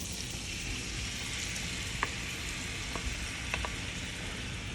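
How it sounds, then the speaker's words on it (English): Tripe going into a hot pot for tripe and beans, setting off a steady broadband sizzle with a few faint clinks and scrapes, no voices. "now I'm gonna add my tripe in"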